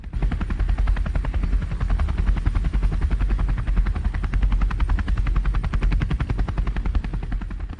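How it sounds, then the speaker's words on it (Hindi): A helicopter is heard close and loud, its rapid rotor chop pulsing steadily throughout with no voices over it. "हेलीकॉप्टर आ गया।"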